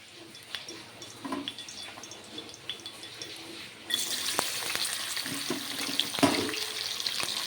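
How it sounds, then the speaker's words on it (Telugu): Fish frying in oil in a kadai, a steady sizzling hiss that turns louder and denser partway through, with occasional crackles and light utensil taps and no talking. "కళాయిలో ఆయిల్ పోసిన చేపలు వేపుకుందాము"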